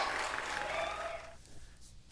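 Canned applause plays on a sleight-of-hand magic livestream: a burst of crowd clapping at moderate level that fades out after about a second and a half, leaving a quiet tail.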